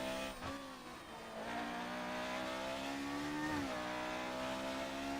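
A single-seater race car engine in a racing game at Monaco holds a high, steady whine, dipping briefly twice as the driver shifts and then climbing again under throttle, loud and close throughout.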